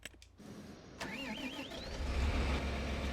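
A tractor engine cranks and catches in a farming video game, starting with a brief whine before settling into a steady, loud mid-pitched running rumble that builds slightly toward the end.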